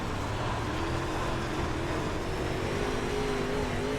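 An UMP Modified race car engine at Williams Grove in the iRacing video game drones steadily and loudly, holding a constant engine note with slight pitch rises throughout, and no voices are heard.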